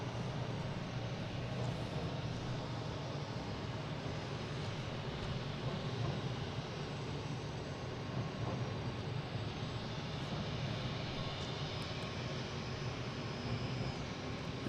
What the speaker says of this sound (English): American Airlines over Castle Island. Should be here in a second.